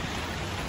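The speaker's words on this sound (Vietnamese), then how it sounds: "trời đang mưa các bạn ơi" Steady rain falls outside a home garden, a soft continuous hiss of drops on surfaces with no voices.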